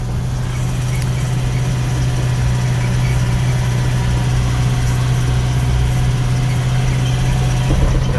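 An Eicher truck's diesel engine runs at a steady, loud idle with a strong low drone, continuous throughout, on a dark forest ghost road at night.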